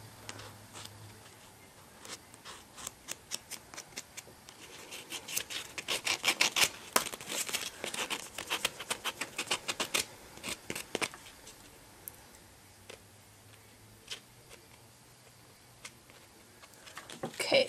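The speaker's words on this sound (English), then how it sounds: "Then I'm just going to take my buffing block and kind of get all of that dust off." A buffing block rubbed over acrylic nails to clear off filing dust, making quick, light scratchy strokes in uneven bursts, close and soft, with faint low hum in the background.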